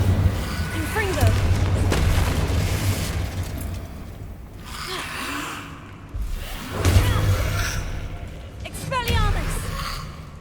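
Confringo blasting spells in the video game Hogwarts Legacy, a series of booming explosions and whooshing bursts spread across the stretch, loud and close, with a voice speaking among them.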